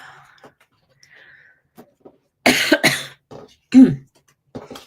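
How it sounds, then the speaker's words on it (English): A person coughs and clears their throat in a few loud, close bursts between quieter moments, with no talk. "I'm trying not to cough"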